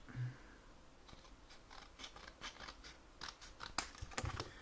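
Scissors snipping the striker strip off a matchbox, a series of faint, close, crisp cuts and small crunches spread irregularly through a quiet room.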